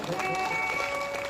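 A crowd at a Bhagwat Katha religious gathering claps in a dense, steady burst of applause, close and continuous with a voice speaking over it.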